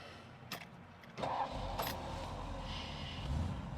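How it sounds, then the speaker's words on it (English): A 1978 Aston Martin V8 Coupe in Aztec Gold is cold-started, with a few clicks before the engine catches and settles into a steady, fairly quiet idle. "it is essentially a cold start"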